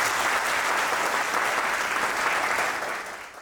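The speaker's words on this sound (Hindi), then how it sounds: "तो ज़ोरदार ताली बजाइए।" A seminar audience claps loudly for about three seconds, dense and close, then fades slightly at the end.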